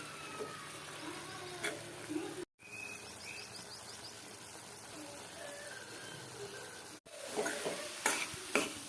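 Liver gravy with masala, tomato and coconut being stirred in a hot pan, a steady close sizzle with scraping spoon strokes, briefly cut off twice, with no talking over it.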